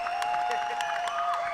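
Audience applause at the Gayakudu audio launch: a steady wash of many hands clapping, with sharp claps rising out of a dense, continuous crowd roar and a sustained tone running underneath.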